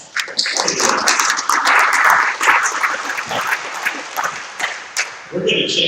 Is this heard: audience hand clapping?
yes